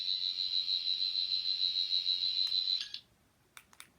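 A Doctor Who sonic screwdriver toy gives a steady, piercing electronic whine for nearly three seconds before stopping, followed by a few short clicks from the toy.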